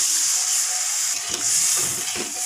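Water poured into a hot pan of frying taro and potatoes sets off a loud, sustained steaming hiss and sizzle up close, with faint bubbling underneath and no talking.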